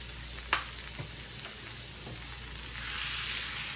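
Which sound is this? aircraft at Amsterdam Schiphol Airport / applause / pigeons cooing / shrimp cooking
shrimp cooking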